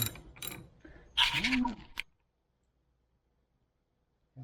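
A wrench loosens a 10 mm battery terminal nut on a Honda Odyssey, a quick burst of close ratcheting clicks and metallic rattles lasting about two seconds, then silence.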